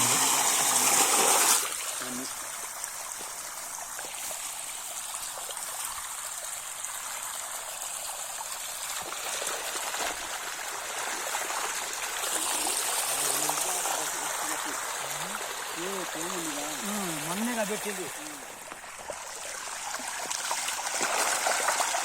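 Water runs and trickles steadily through an irrigation channel feeding a paddy field, a continuous nearby babble, with people talking over it partway through.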